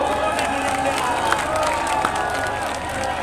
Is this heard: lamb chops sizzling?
no